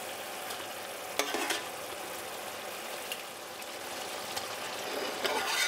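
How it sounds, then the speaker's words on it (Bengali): Chicken masala with milk bubbles and sizzles in a pan, a soft continuous crackle with a few louder stirring scrapes and taps, and no talking. "দুধ দেওয়ার পর আমি এটাকে মিনিট খানেক একটু ফুটিয়ে নিয়েছি"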